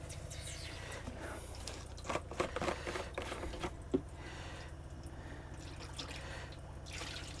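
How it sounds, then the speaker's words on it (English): Water poured into a camper van sink drain while the pipes are cleaned, a low trickle and gurgle with a few brief splashy bursts in the middle, fairly faint and close, with no talking. "So we'll put some water in."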